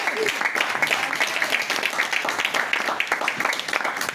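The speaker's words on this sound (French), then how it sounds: "Je croyais que tu allais acclamer" A church congregation clapping and cheering in a worship service hall, dense steady applause sustained throughout with voices mixed in the crowd noise.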